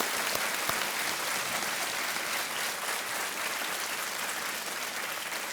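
A studio audience at a TV quiz show, Kaun Banega Crorepati, breaks into loud sustained applause that fills the room evenly from start to finish.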